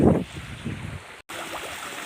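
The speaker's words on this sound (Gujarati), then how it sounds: "ઓહ પાણી જાય છે ખટખટ ખટખટ ખટ કરતું" A stream running over rocks near a Khodiyar temple on a hill path, a steady, fairly close rushing wash that carries on through the clip after a brief voice at the start.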